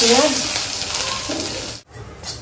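Onions fry in hot oil in a pan alongside a dry red chilli and a bay leaf, giving a steady close sizzle that cuts out abruptly for a moment near the end before resuming more softly.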